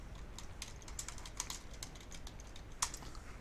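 Rapid typing on a computer keyboard while entering a place name into a Scratch geography game, with quick light key clicks and a couple of sharper taps, close and alone.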